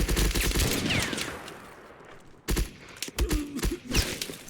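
Rapid bursts of heavy gunfire from the video game Mud and Blood, loud and dense at first, then a short gap followed by further volleys of sharp, thudding shots.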